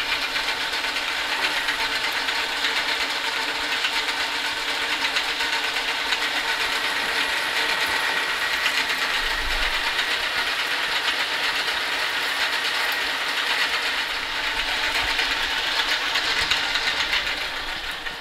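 A metal lathe makes a thread-cutting pass on a back plate for a 5-inch chuck, producing a continuous loud mechanical whir with a fast, even rattling rhythm that holds steady throughout.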